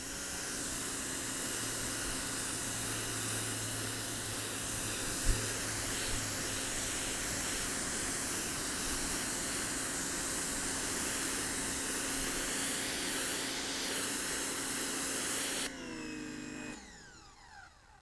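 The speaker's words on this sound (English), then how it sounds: "So I have the green 25-degree nozzle, and I got some mud on the driveway because I mowed yesterday." An AIVOLT PWX-3200s electric power washer with a green 25-degree nozzle blasts mud off a driveway. It gives a steady, close hiss with a motor hum that goes on without a break, then winds down and shuts off near the end.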